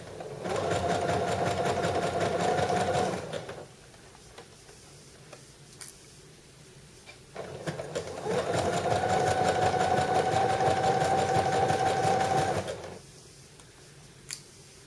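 A sewing machine top stitches around a knit sweater neckline in two long runs of rapid, steady whirring and ticking, separated by a quiet pause with small clicks.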